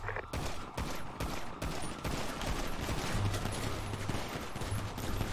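Rapid bursts of SMG gunfire from a police shootout in a roleplay video game after a jewelry store robbery, a dense, continuous fusillade of shots close by, with no talk.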